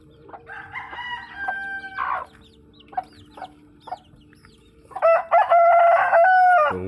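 Chickens cluck and squawk nearby in short bursts in a provincial chicken farm, then a rooster lets out a loud, drawn-out crow close by.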